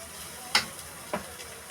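Onion frying in a pan for Egyptian mahshi, a soft steady sizzle broken by two short sharp crackles or stirring scrapes, close and fairly quiet.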